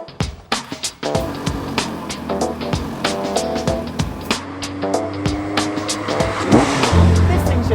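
A dedicated track car with a windscreen is driven hard. The engine note rises and falls steadily under gear changes, with short sharp noises early on and a heavier rumble building toward the end.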